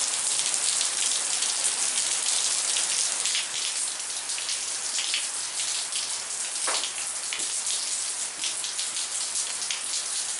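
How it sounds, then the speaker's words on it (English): Steady, dense rain hisses down continuously, a uniform loud patter on a surface with no voices, unchanging for the whole stretch. "Still raining."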